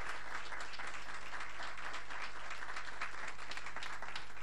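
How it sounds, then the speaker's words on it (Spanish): A conference audience gives a round of applause to panelists after a roundtable, continuous crowd clapping heard at moderate distance over a low steady hum. "Creo que mis compañeros de mesa se merecen un aplauso"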